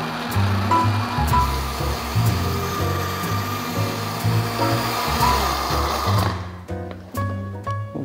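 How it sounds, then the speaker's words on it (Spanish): Kitchen blender running at maximum power, pulverizing a peach frozen drink; a loud, steady motor drone with a rattling, churning texture that holds for about six seconds before cutting off abruptly, leaving brief clatter. "Vamos a activar nuestra licuadora en potencia máxima para que pueda pulverizar bien."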